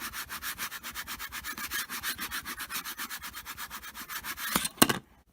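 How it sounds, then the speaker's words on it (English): Self-adhesive vinyl is burnished onto a notebook cover with quick, rhythmic back-and-forth rubbing strokes, close and scratchy, ending in a couple of sharper scuffs before stopping. "I'm going to burnish the vinyl down onto the front of my notebook. I'm going to give it a good old rub"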